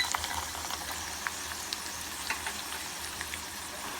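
Dried red chillies and peanuts sizzle and crackle steadily in oil in a pan, with small scattered pops throughout and no talking.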